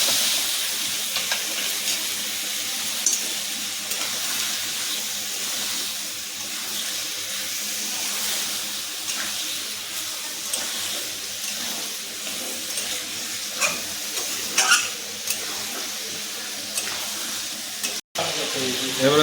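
Meat cooks in a pan as spiced water is poured in and stirred, giving a long, steady, watery hiss and bubbling with small clicks and scrapes throughout.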